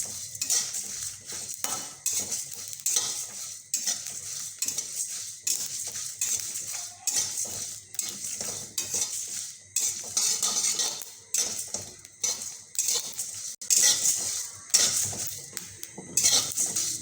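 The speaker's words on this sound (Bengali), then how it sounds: "এটাকেও ভালোভাবে নাড়াচাড়া করব যতক্ষণ না এটার মধ্যে রং ধরে যায়" Whole spices frying and being stirred in a pan for homemade village-style mango pickle, with a steady scraping and clinking of a metal spoon against the pan running throughout, close and fairly loud.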